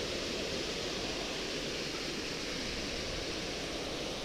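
River water at Azusa rushing continuously in a steady, full hiss, moderately close and alone with no voices.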